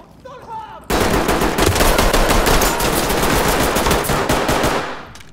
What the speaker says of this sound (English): you just walked right in front of my gunfire